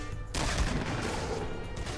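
Burst of gunfire from a Fortnite Battle Royale match in Blitz mode, a dense, continuous rattle of shots that starts abruptly and holds steady and loud for nearly two seconds.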